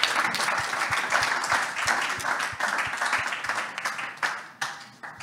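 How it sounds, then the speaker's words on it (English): A conference audience at a women's football event gives a sustained round of applause, dense and steady clapping filling the room at moderate level, with a few louder individual claps standing out near the end. "And you can continue your round of applause"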